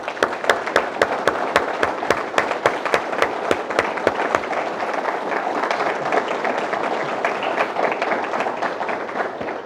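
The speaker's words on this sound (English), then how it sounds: "So please join me in recognizing and applauding our tremendous personnel." An indoor audience applauds personnel at a fire department awards, graduation and badge pinning ceremony, with sharp individual claps standing out at first over a dense, sustained round of clapping that continues loudly throughout.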